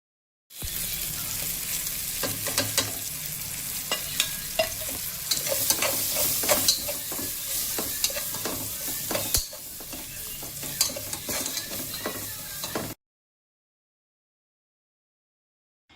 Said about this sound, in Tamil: புதினா சேர்த்துட்டு நல்லா வறுக்க விட்டுட்டு அதுக்கப்புறம் இந்த மசாலாவை சேர்த்துக்கோங்க.